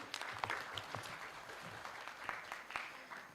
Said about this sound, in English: please, huge round of applause without saying